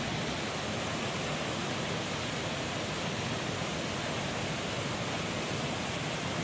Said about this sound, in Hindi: तो ये पालर झरना आप देख रहे हैं, जहाँ पर बताया जा रहा है कि हर बार जब बारिश होती है तो झरना कुछ ऐसे ही दिखना शुरू हो जाता है